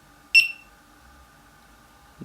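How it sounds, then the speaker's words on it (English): A GoPro HD Hero 3 Black camera gives a single short, bright electronic beep, followed near the end by a faint low click, over a quiet background hum. "the sound of this beeping"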